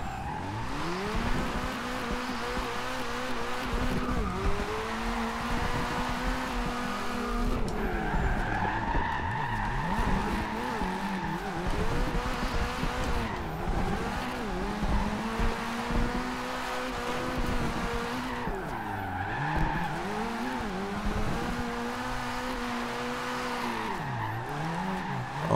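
Porsche drift build in Forza Horizon 2 sliding through corners, its tires squealing loudly and continuously over a straining engine, the pitch rising and falling as each drift swings through.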